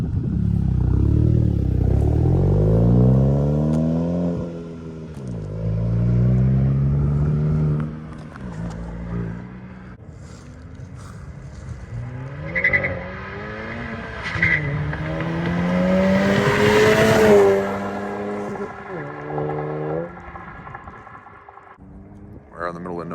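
A VW Golf GTI MK7 with a Borla S-Type exhaust pulls away at full throttle, its loud exhaust rising through several rev sweeps and gear changes before fading as it drives off.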